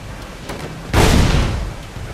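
A cannon shot in a naval battle in Assassin's Creed IV Black Flag, heard as one loud, broad boom about a second in that rolls off and fades over the next second, with no talk.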